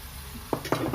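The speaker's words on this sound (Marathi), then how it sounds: "आलं लसूण पेस्टसुद्धा छान परतून घ्यायची आहे" Ginger garlic paste sautéed with browned onions in a pan, a couple of quick scraping spatula strokes over a soft frying hiss, close and brief.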